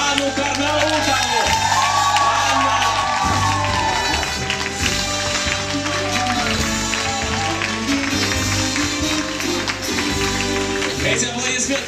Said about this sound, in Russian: Эти аплодисменты в вашу честь, Анна